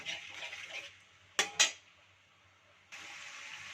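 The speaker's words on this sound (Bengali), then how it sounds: "তো মশলাটা কিছুক্ষণ আমি টমেটোটা দিয়ে জলটা দিয়ে একটু নাড়িয়ে চাড়িয়ে নিলাম মশলাটা।" A spoon works through a wet masala of tomato and water in a pan for Bengali boal fish curry: soft bursts of bubbling hiss, then two sharp metallic clinks close together, then a quiet pause before the low hiss returns. No one talks.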